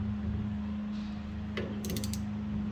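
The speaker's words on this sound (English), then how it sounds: "And we are cranking it down slowly here" A bolt is slowly cranked down on the steering wheel shaft of a Willys CJ2A, a low steady mechanical hum with faint creaks and a few quick metallic clicks and ticks near the end.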